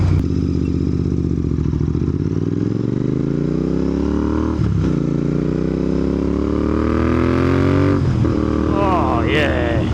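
Royal Enfield Interceptor 650 motorcycle engine while riding, a loud close rumble that rises in pitch through the gears with two short dips at shifts, plus wind noise and some clatter.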